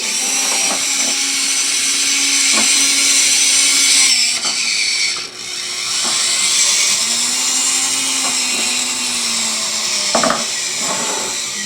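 Unit crane motor whirring steadily as the crane spins through full 360-degree rotation, a loud continuous high-pitched whine that shifts pitch and dips briefly before picking back up.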